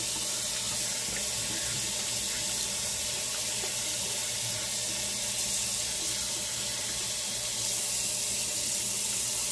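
Steady running tap water pours continuously as a razor is rinsed under the faucet during a head shave with a BundaBeard Sanga Symphony razor, a close, even hiss with no talking.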